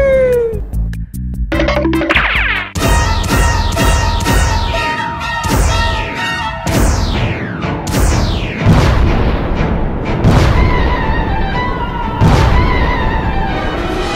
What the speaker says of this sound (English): Why do we robbers keep exploding suddenly?